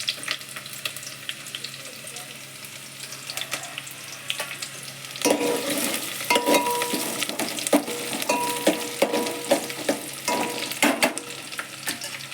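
Onions and green chillies fry in a pan for a Telangana mango and egg curry, a steady sizzle that grows louder and busier after a few seconds, with scattered crackles and scrapes running throughout.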